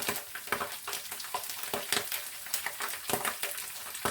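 Onions and spices, including chili flakes and cumin, frying in a pan for white lentils, giving a steady sizzle punctuated by repeated bursts of crackling and stirring scrapes, close and fairly quiet, with no talking.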